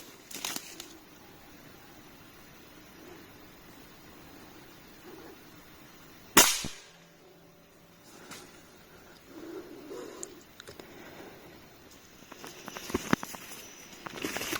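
A gunshot fired at a squirrel in Lao or Thai countryside, a single sharp crack standing out loudly against quiet outdoor ambience with faint rustling before and after.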